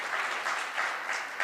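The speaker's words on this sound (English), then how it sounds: "Please applaud" Audience applause welcoming a speaker onto the stage at a conference on feeding the world in 2050, a steady, moderately loud wash of many hands clapping with no voices over it.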